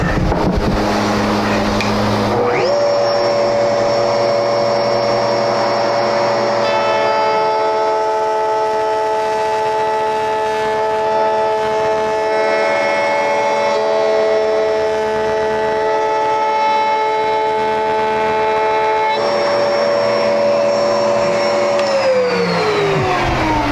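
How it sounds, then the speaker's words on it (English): A router shapes the edge of a wooden vanity cabinet door, spinning up into a loud, steady high-pitched whine with a gritty cutting roar that holds for about twenty seconds before winding down, close and continuous. "Now I'll run it over here on the router."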